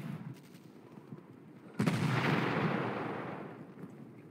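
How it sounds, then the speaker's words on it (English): In the Panzer Corps wargame, an artillery shot lands as a sudden heavy boom that rolls into a long, fading rumble, moderately loud over quiet background. "I'm gonna get some artillery support in."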